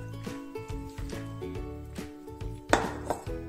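Hot cream being mixed into chocolate in a bowl, heard as repeated clinks and scrapes of a utensil against the bowl in an uneven rhythm, close by with no voices.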